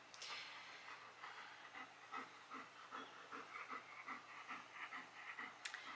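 A dog pants close by in quick, steady rhythmic breaths, soft and breathy, alone in a quiet indoor room.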